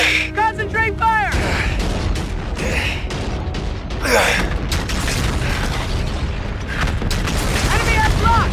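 Swivel-mounted ship guns fire in a Martian fleet space battle, heavy mechanical booms and clanks churning continuously under a dense roar of combat effects, with brief electronic chirps and a sweeping whoosh partway through.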